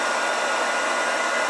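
A battery-powered 20-volt heat gun running, a steady loud blowing whir of fan and airflow, constant and close with no other sounds.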